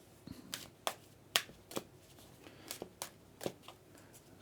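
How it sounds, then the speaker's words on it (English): A deck of tarot cards being handled and riffled, with sharp crisp snaps at irregular intervals, close up and with no talking. "I've shuffled the deck and I'm just thumbing through the deck."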